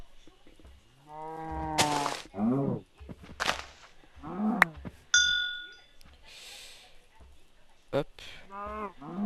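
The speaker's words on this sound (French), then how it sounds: "Encore 2-3 petites vaches." Cartoonish cow moos from a cold-themed survival video game, several short calls scattered through the clip, mixed with game chimes and pickup sounds while someone talks in French between them.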